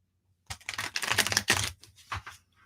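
Cards are shuffled in a fast, close burst of crisp riffling and flicking that runs about a second and a half, followed by a few shorter shuffling bursts, with no talking.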